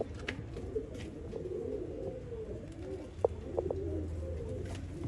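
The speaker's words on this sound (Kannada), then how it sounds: "ಅಕ್ಕಿ ನೋಡ್ರಿ ಗೈಸ್, ಅಕ್ಕಿ ನೋಡಿ ಕಮೆಂಟ್ ಮಾಡಿರಿ ಯಾವ ಥರ ಐತೆ ಅಕ್ಕಿ." Line pigeons kept for sale in Bangalore coo softly and repeatedly among low background murmur and faint chirps, with a couple of brief, slightly louder calls near the middle.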